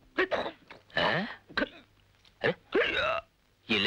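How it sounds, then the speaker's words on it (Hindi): Repeated short, sharp vocal hiccup-like bursts from a man in a 1989 Hindi film scene, about six spasms spaced unevenly over a few seconds, close and fairly loud with a faint low hum beneath. "मैन हिचकियां क्यों ले रहा है"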